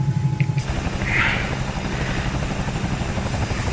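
A Bell 222B helicopter in Microsoft Flight Simulator 2020 gives a steady, close rotor and turbine drone with a rhythmic low thump. A brief higher whine swells near the start, and no voices are heard.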